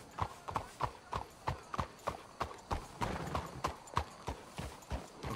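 Horse hooves clip-clopping in the video game Red Dead Redemption 2, a steady trotting rhythm of sharp, fairly close hoof strikes, about two per second, continuing throughout with no talk over it.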